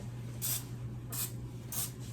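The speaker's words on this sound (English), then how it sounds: "whenever you're spraying pans, you always want to make sure you get the corners too" Cooking spray hisses onto a baking pan in three short, close bursts at steady intervals over a low background hum.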